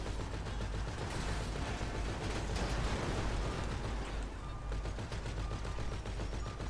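Rapid gunfire rattles through GTA V gameplay in steady bursts, dense and continuous across the whole stretch, with no clear talk over it.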